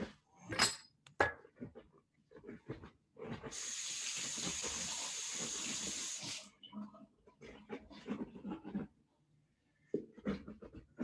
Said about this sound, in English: definitely going to wash my hands